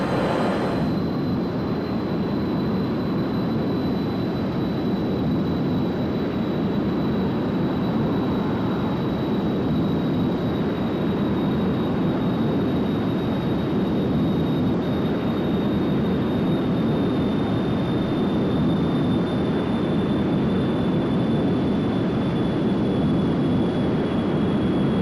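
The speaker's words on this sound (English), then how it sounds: "We'll go ahead and turn on the nuclear engines." Nuclear rocket engines firing in a space flight video game, a loud, unbroken roaring drone with a steady high whine on top, holding constant throughout with no speech.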